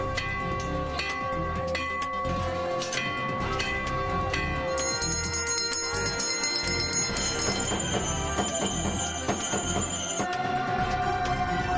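Temple bells ring continuously in a dense, loud wash of metallic chimes, with overlapping strikes and sustained ringing tones throughout, as worship resumes at a Hindu temple reopening after lockdown.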